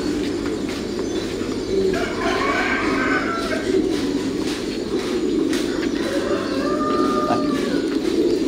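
Thai Titan pigeons cooing in a loft, soft repeated coos rising over a steady low mechanical hum, with a faint voice in the background.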